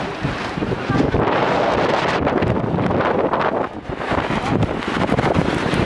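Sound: strong wind in the mountains at Rohtang Pass

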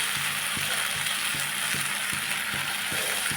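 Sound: corn manchurian stir-frying in pan on full flame

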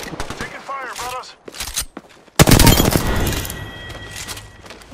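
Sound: gunfire in Apex Legends video game

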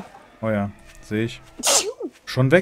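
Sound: sneeze

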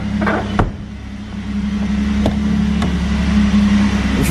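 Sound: 1991 Alfa Romeo 164 engine running

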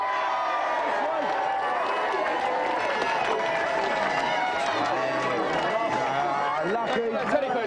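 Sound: studio audience cheering

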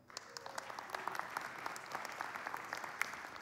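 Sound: applause for course attendees at a church service

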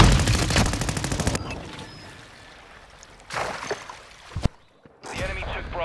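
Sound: gunfire in the video game Call of Duty: Modern Warfare II

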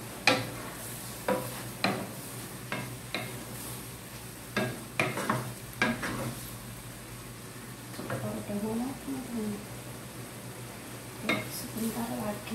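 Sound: stirring egg mixture in a pan for tamagoyaki

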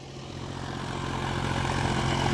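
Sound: John Deere 5050D tractor engine running in potato field

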